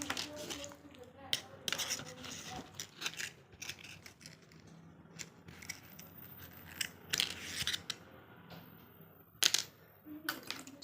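Scissors snipping through single strand wire, several sharp close clicks and cuts spread out between quieter handling noises, with a voice faintly underneath.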